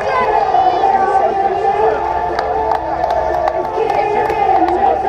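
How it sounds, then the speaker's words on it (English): A large crowd cheers and shouts continuously at a half marathon finish line, a loud wash of voices with scattered whoops rising over it. "I want to hear huge cheers and clapping and round of applause."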